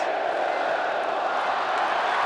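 A huge stadium crowd roars at Lang Park as the 1993 State of Origin game ends, a dense, sustained wall of cheering that holds steady and loud throughout.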